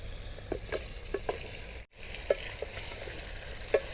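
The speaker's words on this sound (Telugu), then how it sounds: "ఇప్పుడు మనం ముందుగా మ్యాగ్నేషన్ చేసుకున్న చికెన్ అయితే వేసేసుకుందాం" Marinated chicken with ginger-garlic paste and tomatoes sizzles in a hot pan for a gongura chicken biryani, with soft frying hiss and a few light stirring scrapes spaced through, one brief pause midway, no talk.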